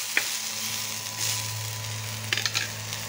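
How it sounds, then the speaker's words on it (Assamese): Pumpkin seeds frying in smoking hot oil in a pan for chutney, a steady close sizzle with a few brief stirring scrapes and crackles. "এয়া তাৱাখনৰ তেলকন গৰম হৈ গল ইয়া ধোঁৱা ওলাই গৈছে আৰু ইয়াতে মই ৰঙলাও গুটিকিটা দি দিছো"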